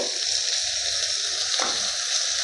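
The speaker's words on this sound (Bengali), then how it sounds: "আমি সবকটা মশলা ভালোভাবে আমি ভেজে নেব আনাজগুলোর সাথে" Vegetables frying in a pan with ginger and spices, giving a dense, even, close hiss of sizzling oil that runs without a break and without speech.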